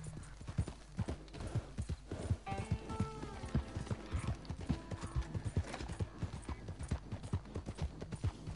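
Hooves of a white Arabian horse clip-clop in a steady rapid rhythm in Red Dead Redemption 2, close and fairly loud, with brief tonal game music notes layered over the gait.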